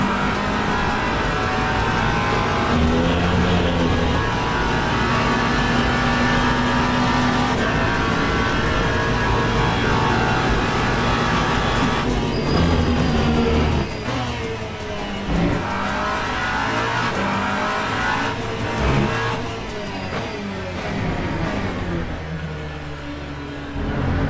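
A hypercar engine in a racing video game revs hard out of a corner, rising through the gears with a dense, sustained race-car roar, changing pitch as it shifts, with faint tire noise over a constant engine drone.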